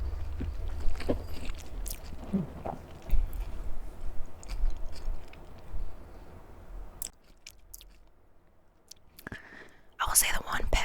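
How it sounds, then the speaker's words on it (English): Someone chews a crusty baguette close to the microphone, with crunchy bites and wet mastication over several seconds, broken by soft whispering. "the one pet peeve I have with baguettes, they're a little hard to chew through"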